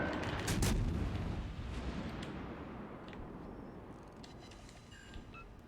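Soviet battleship main guns firing in World of Warships Legends: a heavy close boom at the start with a long rumbling decay fading over several seconds, then faint distant thuds.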